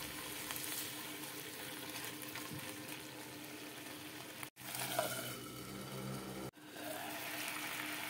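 Water poured into a frying pan of cooking garlic sets off a fairly quiet, steady sizzle and bubbling that runs on with two abrupt breaks, with no talking.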